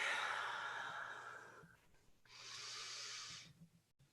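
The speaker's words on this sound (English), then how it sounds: "take a full breath in and exhale" A deep, slow breath drawn in and then released in a long, soft exhale during a guided tapping session, close and quiet, with a brief pause between the inhale and the exhale.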